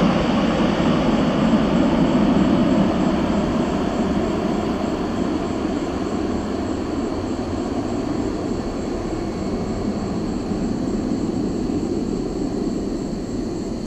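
Steady, loud roar of a C-130 aircraft's turboprop engines, a continuous deep drone with a broad rumbling hum that holds throughout without pause, at Noi Bai International Airport.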